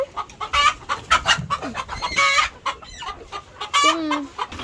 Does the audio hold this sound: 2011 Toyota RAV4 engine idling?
no